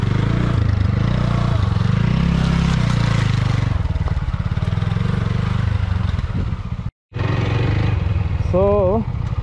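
Motorcycle engine revving and labouring as the bike struggles along a slippery, muddy road near Khaiyachora waterfall in Chittagong, a steady close drone with shifting pitch, voices talking over it at times.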